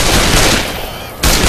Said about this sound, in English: Shoot that son of a bitch in the back!